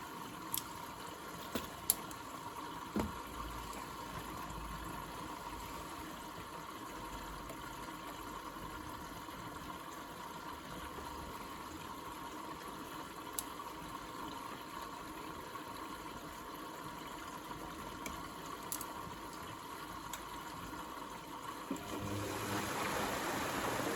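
A Dyson CR01 washing machine with a repaired pump taking on water: a steady, continuous rush of inflowing water holds at an even level for about twenty-four seconds, with a few faint clicks and a slight rise near the end.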